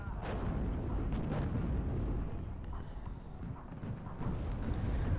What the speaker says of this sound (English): It's taking a shot from the Leopard now